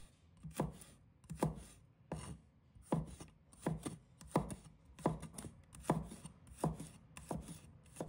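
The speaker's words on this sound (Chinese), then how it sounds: "1把大蒜，也把它切成片" A knife slices through a handful of garlic cloves on a cutting board, about a dozen crisp, evenly spaced chops close up with no talking.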